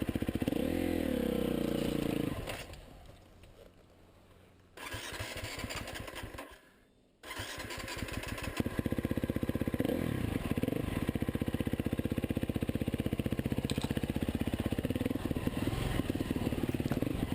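Off-road motorcycle in Limerick Forest, its engine buzzing loud and near. It drops away twice, then picks up again and holds a steady, hard-revving drone.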